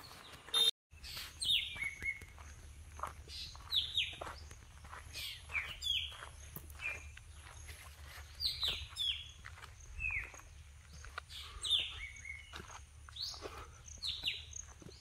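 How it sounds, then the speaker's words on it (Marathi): Birds chirp and tweet repeatedly near the forest-surrounded village of Ekara in Chandrapur district, with bright overlapping calls rising over a steady low rumble for the whole stretch, and no talking. "पक्ष्यांचा टिवटिवाट ऐकत आहात मित्रांनो."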